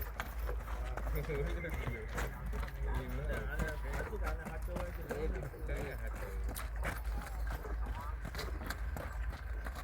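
Horse hooves clip-clop steadily at close range while people talk and call out over them throughout.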